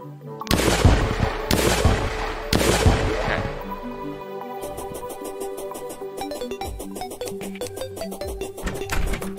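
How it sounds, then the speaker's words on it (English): A shotgun fires in the Terraria video game: three heavy booming blasts roughly a second apart, then dense rapid synthetic firing and music-like tones rattling on loudly to the end. "Shotgun."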